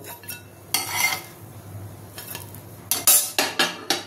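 Fried bread toast, prawn toast, lifted from an oily frying pan with metal utensils, giving several sharp clinks and scrapes against the pan over a faint low sizzle, close and moderately loud.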